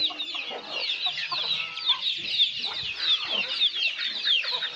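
A flock of chickens, large birds among them, clucks steadily outdoors on a farm at feeding time, a dense, continuous chorus of overlapping cackles up close with no pauses.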